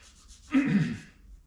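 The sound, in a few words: scuffing car parts before priming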